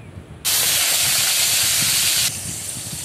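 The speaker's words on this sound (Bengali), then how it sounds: "পটল ভাজা হয়ে গেলে এই পটল ভাজা তেলের মধ্যে দিয়ে দিব আলুগুলো" Potatoes hit hot oil left from frying pointed gourd (potol) for Bengali-style patal chingri, setting off a loud, steady sizzle that lasts about two seconds before easing to a softer frying hiss.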